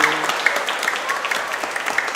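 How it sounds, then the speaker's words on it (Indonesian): A church and school audience claps for the children who danced at the feast celebration, a fairly even crackle of many hands at moderate distance, filling the short stretch without pause. "Untuk adik-adik yang menari hari ini, kita beri tepuk tangan."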